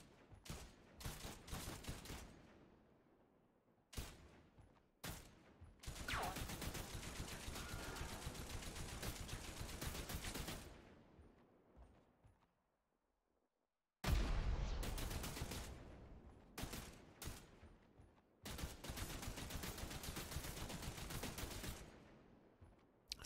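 Gunfire in the dark horror shooter SCATHE, with dense bursts of rapid shots in several long volleys split by short pauses and one silent gap, loud and close with no talk.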